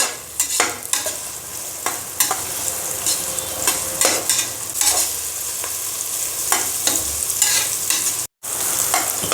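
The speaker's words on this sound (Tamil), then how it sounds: "இப்போ நல்லா வெங்காயம் நல்லா வதங்கி ப்ரௌன் கலரில் வரணும்." Onions sauté in a pan for a biryani, a loud steady sizzle with frequent scraping stirs of a spoon against the pan, close by, with no voices and a brief dropout near the end.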